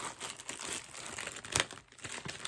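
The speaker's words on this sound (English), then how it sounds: "let's go ahead and unwrap this" Packaging around a Kate Spade wallet being unwrapped, close and quiet, with continuous crinkling and rustling of plastic and paper and a sharper tearing crackle partway through.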